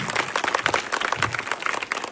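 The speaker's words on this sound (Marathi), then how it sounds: "टाळ्या वाजवा का त्याच्यासाठी जोरदारात" An audience at a 15 August Independence Day school event in Karvand village claps together, a brief burst of dense, even applause close by with no voice over it.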